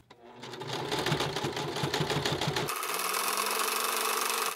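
A sewing machine stitches fabric for a simple skirt, its steady rapid needle chatter running nearly continuously at close range, shifting to a smoother, higher whir partway through; no talking over it.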